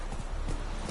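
Roach, the horse in The Witcher 3, gallops in a quick, close, rhythmic drum of hoofbeats over a brief stretch.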